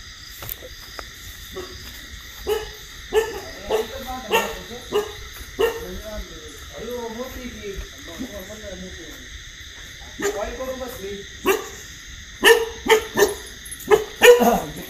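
Dogs bark repeatedly in sharp bursts nearby, scattered through the stretch and clustering toward the end, heard over and between people talking.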